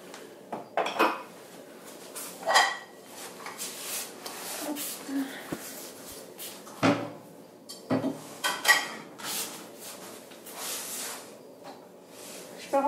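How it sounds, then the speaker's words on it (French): Plates, pots and cutlery being dried with a tea towel and put away in a home kitchen: scattered clinks, knocks and clatters at close range, irregular over several seconds, with a faint voice now and then. "je vais prendre déjà mon torchon. Et je vais essuyer la vaisselle. Et la ranger."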